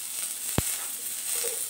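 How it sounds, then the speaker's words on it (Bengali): Chopped onions with a pinch of salt fry in a hot pan, giving a steady, close sizzle with one brief sharp click partway through. "তো এখন পেঁয়াজটা ভাজা হয়ে যাক"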